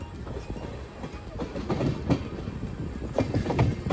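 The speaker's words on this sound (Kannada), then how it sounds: "ಫೈನಲಿ ಈಗ ನಮ್ಮ ಟ್ರೈನ್ ಬಂಗಾರಪೇಟೆಯಿಂದ ಡಿಪಾರ್ಚರ್ ಆಗೋಯ್ತು" A passenger train pulling out of Bangarapet station, heard from onboard as a continuous loud rumble with rhythmic clickety-clack of wheels on rail joints, steady throughout with no talking.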